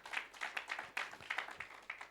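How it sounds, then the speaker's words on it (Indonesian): A church congregation at a Sunday worship service in Jakarta claps for God in a brief, light burst of applause, quick overlapping hand claps at a moderate distance. "Yang percaya tepuk tangan buat Tuhan kita"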